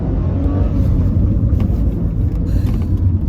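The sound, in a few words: Mitsubishi Galant car accelerating in first gear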